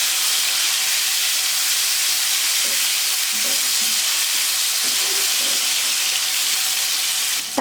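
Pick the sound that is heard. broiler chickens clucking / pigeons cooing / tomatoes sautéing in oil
tomatoes sautéing in oil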